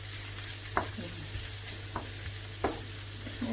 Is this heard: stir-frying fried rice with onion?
yes